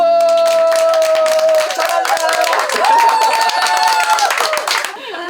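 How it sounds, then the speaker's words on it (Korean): An audience claps steadily while sustained, ringing handpan tones linger and fade beneath the applause. "박수"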